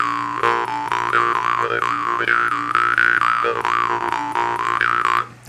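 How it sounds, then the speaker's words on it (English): A jaw harp played with a bright, buzzing, twangy drone and rhythmic vowel-like shifts in pitch, loud and close, continuing steadily for several seconds before cutting off abruptly. "So I'm going to play harps that are a lot more crunchy or a lot more melodic."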